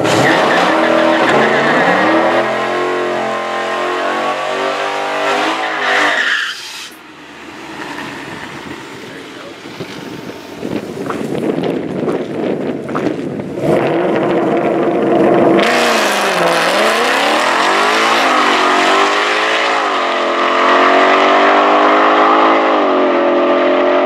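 A 2020 Shelby GT500 roars down a drag strip, engine loud and close as it revs and climbs through the gears, with a brief drop in sound before it surges again, and a voice talking over it in places.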